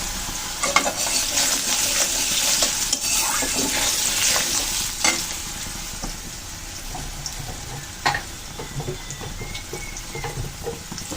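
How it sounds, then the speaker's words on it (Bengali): Chopped potatoes fry in oil tempered with dried red chilli, with a little turmeric, giving a continuous close sizzle broken by occasional spatula scrapes and knocks against the pan, with no voices. "এখন আলুগুলো ভালো করে ভেজে নেব।"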